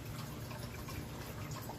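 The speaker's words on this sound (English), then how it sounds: "You see how much water I'm pouring in here." Steady low rushing of a whole bottle of water pouring into a reptile bedding bin, a continuous even gush with no pauses.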